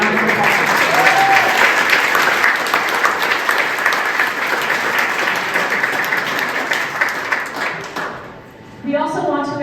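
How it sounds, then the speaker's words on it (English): Sustained, loud applause from a room full of people at an evening anniversary celebration honouring teachers, steady for about eight seconds before fading, with a few voices rising as it ends. "please give everybody in the room a round of applause"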